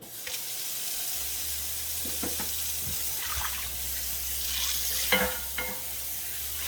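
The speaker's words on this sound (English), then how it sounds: "I'm going to rinse her out really well." Water runs steadily from a tap over a cast iron skillet being rinsed, a constant close hiss with occasional clanks and splashy bursts as the pan shifts under the stream.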